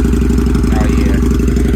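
Harley-Davidson V-Rod motorcycle engine starting up and settling into a steady, loud, throbbing idle close by, with a continuous low rumble filling the whole moment.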